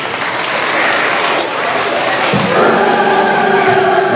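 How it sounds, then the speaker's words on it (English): Applause for a group of fourth graders on a live show, a steady wash of clapping from the audience with some crowd noise and thumps, growing fuller partway through. "Round of applause for our socially vigilant fourth graders"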